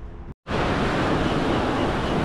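Ocean waves at Pompano Beach, Florida wash in a loud, broad, steady rush of surf with wind noise, close to the shore, following a brief cut at the start.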